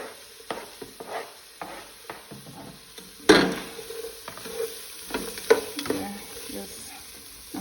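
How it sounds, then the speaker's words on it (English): Scallion, onion, garlic and carrots sautéing in a pot for a lentil dish, soft sizzling under repeated scraping stirs, with one loud clatter of a utensil partway through, close and moderately quiet. "the onion, the garlic, and some carrots, and just let everything saute"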